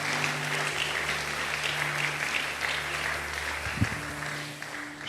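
A church congregation applauding and cheering, with steady sustained clapping from a large crowd that carries on evenly for several seconds, backed by a faint musical tone.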